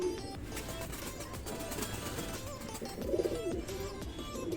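Benarasi Kalshira pigeons coo softly in the background, with a slightly louder burst of low, throaty cooing partway through amid a busy, rustling ambience.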